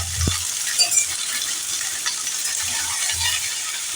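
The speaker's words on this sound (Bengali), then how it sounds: "সমস্ত চাল কুমড়ো ছেড়ে একটু নাড়াচাড়া করে দেবো।" Ash gourd pieces fry in a pan with a steady sizzling hiss, broken by a few low scrapes and knocks of stirring near the start and toward the end; no talking.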